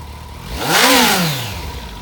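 A 2008 Kawasaki Concours 14 sport-touring motorcycle engine gives one strong rev, rising and falling in pitch, close and loud over a steady idle.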